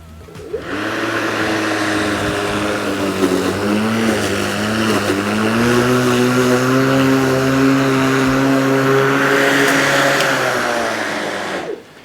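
A Skil battery-powered lawn mower cuts through thick grass outdoors, its electric motor whine steady and close, with the pitch climbing as revs rise under the heavier load; no talking over it.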